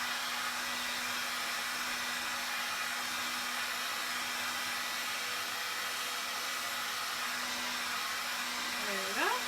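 A heat gun blows steadily while warming Worbla thermoplastic for cosplay shoe armour, an even, moderately loud airy whoosh with a faint tonal hum, and a brief voice-like sound at the very end.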